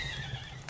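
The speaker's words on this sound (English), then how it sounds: "this is my radical horse" A brief neigh from a horse-like creature in the game Palworld, a wavering whinny heard near and fairly quiet over a low background hum.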